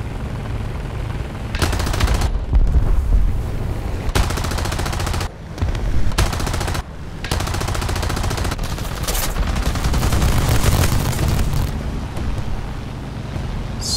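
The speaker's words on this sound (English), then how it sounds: "See an AA shooting at our buddy." Anti-aircraft gun firing in War Thunder ground realistic battle, loud sustained bursts of automatic fire broken by brief pauses, dense and continuous over a low engine rumble.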